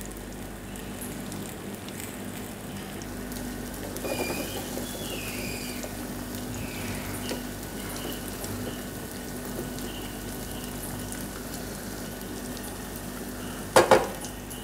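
Egg frying with carrots in a pan for Mongolian chicken, a steady soft sizzle running throughout with faint stirring, then a couple of sharp utensil knocks near the end.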